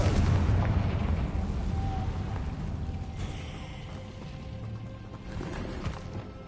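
A fiery Confringo spell explodes in Hogwarts Legacy, opening with a heavy booming rumble that rolls on and gradually thins out, with a smaller thud near the end.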